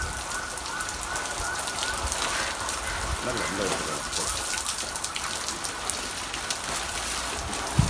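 Steady hissing spray of water falling on plant leaves, like fine rain, continuous and close, with a voice talking over it partway.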